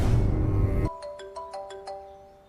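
A phone ring tone chimes several times in a clear repeating melodic pattern, each tone decaying, heard alone after a loud burst of music cuts off.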